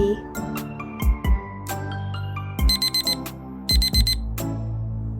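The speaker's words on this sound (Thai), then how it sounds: "จับเวลา 10 นาที" A lab timer alarm rings in loud, rapid beeping bursts, sounding in several quick clusters separated by short pauses, with tonal electronic chirps in between.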